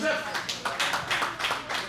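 Brief burst of audience clapping for a performing artist at a music press conference, scattered and uneven over about two seconds, with a voice speaking over it.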